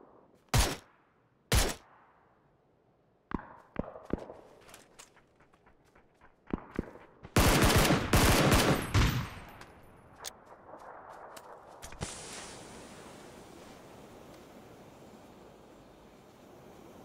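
Gunfire in the battle royale game PUBG: a few sharp isolated shots early on, then a dense, loud burst of rapid shooting midway, followed by scattered fainter shots over a steady background rumble.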